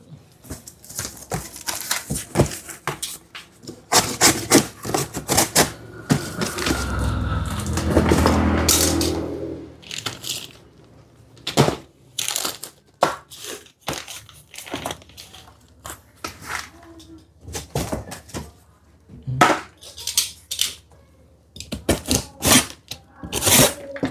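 Bundles of old motorcycle parts, cables and turn-signal bolts, are pressed into packaging with feet. Crinkling and crunching crackles come in irregular bursts, with a longer sustained crush partway through.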